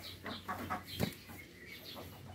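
Backyard farm ducks being let into their pen, giving soft, close bursts of quacking and clucking calls with a brief louder squawk midway and a quiet pause between calls.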